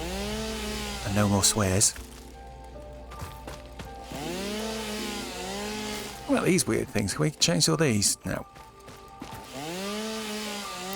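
Chainsaw cutting in the video game Satisfactory, a buzzing motor whine running under ongoing talk, with rising and falling revs across the stretch.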